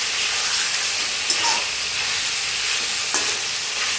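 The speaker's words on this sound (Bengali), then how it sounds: "এবার মাংসটাকে তেলে ভালো করে ভেজে নিচ্ছি" Pieces of chicken fry in hot oil for hariali chicken with green chili, ginger and coriander paste, giving a steady, close hiss of sizzling with a few light stirring scrapes.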